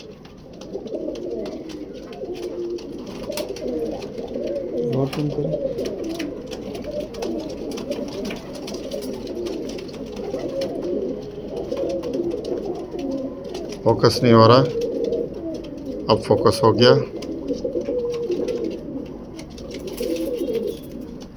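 Original Imam Din pigeons in a Karachi loft coo softly and steadily in the background. Someone talks continuously over them, and a couple of louder bursts of movement stand out near the end.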